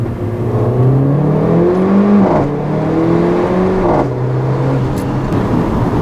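A 2015 Mercedes-Benz GLA 45 AMG engine revs up through rising pitch in first gear, drops as it shifts, then climbs again, loud and close from inside the vehicle.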